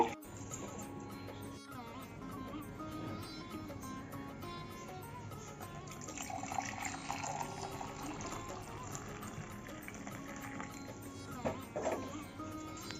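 Boiled water poured into a mug while making kasundi mustard sauce at home, a faint continuous liquid stream with soft splashing throughout.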